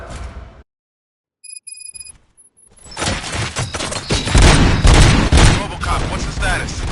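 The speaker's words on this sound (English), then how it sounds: "Gunshots? What's going on?" Gunfire erupts in a Robocop video game, a dense, loud fusillade of shots and booms building after a brief quiet stretch with a few electronic tones.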